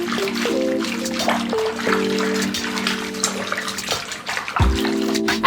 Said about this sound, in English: I like to have a little bit of bubbles in here and kind of swish the water around